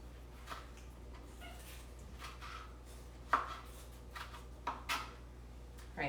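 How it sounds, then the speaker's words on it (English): A kitchen knife without a serrated edge cuts through fresh tomatoes, sounding as a few quiet, separate chopping taps against a low background hum with no speech. "you can cut right through tomatoes without even having a serrated edge"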